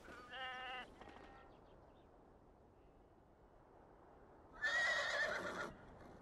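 Two short bursts of sheep bleating in the video game Beyond: Two Souls, a brief harmonic cry early and a louder, brighter one near the end, with quiet background between.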